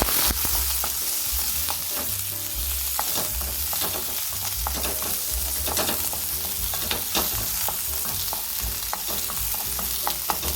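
Garlic and onion sautéing in a pan for pancit, a steady close sizzle with frequent scraping and stirring clicks throughout, no voices.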